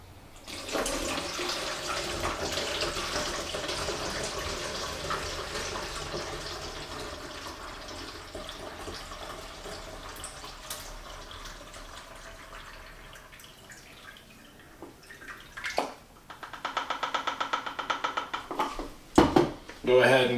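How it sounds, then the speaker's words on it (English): Tap water running into a sink while a film developing tank is rinsed, a steady splashing flow that fades, then bursts of louder water and clatter near the end. "We'll turn our water back on."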